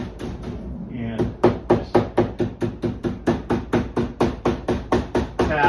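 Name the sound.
hammer tapping staple wire over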